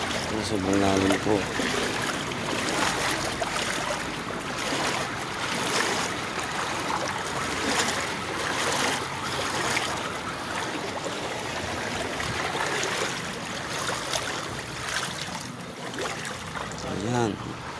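Deep water sloshing and churning around legs as someone wades through a flooded path in the rain, a steady rushing wash that continues throughout with people talking over it.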